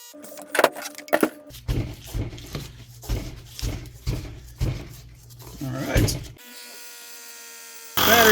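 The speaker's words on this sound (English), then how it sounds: "Battery's getting low, so I might have to change to another compressor" A battery-powered air compressor inflates an e-bike tire, its motor chugging in a rapid pulsing rhythm for several seconds under a voice before cutting out, followed by a brief electric whine.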